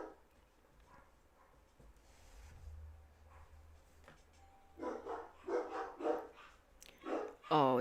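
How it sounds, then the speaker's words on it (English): Several dogs bark indoors, faint muffled yips early on, then a run of louder, closer barks near the end, some sharp and high. "Jeez, these dogs."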